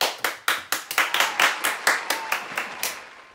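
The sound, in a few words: audience applause for Emma Stone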